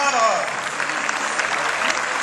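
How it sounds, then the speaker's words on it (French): Audience applause fills a political rally meeting hall, a dense, steady wash of many hands clapping close by, with crowd voices mixed faintly into it throughout. "Et qu'on peut applaudir très très fort."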